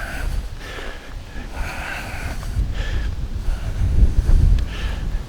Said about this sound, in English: Pretty windy out here right now too.